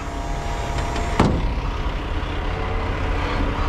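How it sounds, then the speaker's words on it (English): A big truck arrives at a scrapyard, its engine a low steady rumble with a sharp hiss-like burst partway through, heard close and fairly loud without talk. "here comes the big truck"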